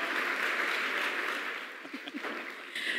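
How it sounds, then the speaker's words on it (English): Applause at a film and TV awards ceremony for a winner named Fatma, a dense crowd clapping steadily and loudly, then thinning briefly before swelling again near the end. "A round of applause for Fatma."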